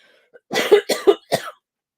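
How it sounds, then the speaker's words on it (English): A person coughs three times in quick succession, close and harsh, after a short throat sound, then silence. "Apologies for coughing, folks."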